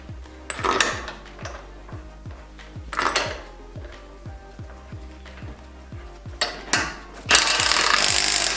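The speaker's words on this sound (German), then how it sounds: "Der Schlagschrauber ist auf 80 Newtonmeter eingestellt." Impact wrench set to 80 Nm tightening the top of a shock absorber on a Mercedes-Benz S-Class 500 SEL W140, heard as steady rhythmic mechanical clicking amid clanks, ending in a loud sustained burst.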